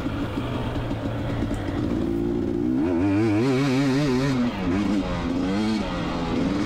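A motocross motorcycle on a dirt track at the Sagebrush Classic, High Desert MX, its engine droning steadily then revving up and down in wavering pitch, loud and close as from the rider's position.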